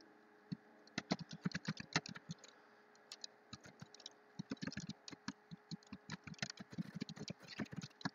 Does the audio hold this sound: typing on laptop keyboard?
yes